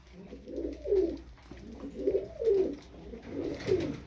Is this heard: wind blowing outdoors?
no